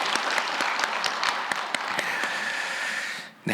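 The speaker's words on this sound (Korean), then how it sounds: "우리 임마누엘 찬양대에게 감사의 박수를 드리도록 하겠습니다" Church congregation applauding the choir during an early-morning prayer service, a steady dense clapping that fills the room, then cuts off abruptly near the end.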